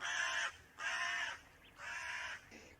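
A crow caws three times in slow succession, each call a long, harsh, fairly faint rasp with short pauses between, alone with no talk.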